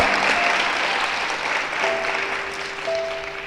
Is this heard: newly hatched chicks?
no